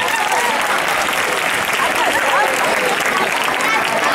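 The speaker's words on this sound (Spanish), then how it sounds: "José Antonio, un aplauso para ti como tutor del grupo." Loud, dense audience applause at a high school graduation ceremony, continuous clapping from a large crowd with some cheering voices mixed in.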